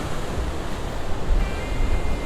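Surf surging into Devil's Churn, a narrow rocky inlet on the Oregon coast, makes a steady broadband wash and rumble with wind noise across the microphone, continuous and fairly loud with no voices.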